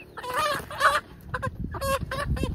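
Hens being caught, clucking and squawking in short agitated bursts at close range, with light scuffling between calls.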